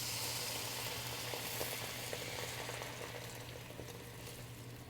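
A cup of water poured into a hot pan of caramelized fennel bursts into a sustained hissing sizzle with faint bubbling that slowly eases, close and without talk.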